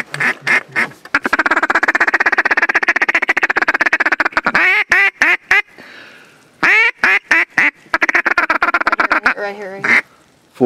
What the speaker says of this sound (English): Bunch of ducks.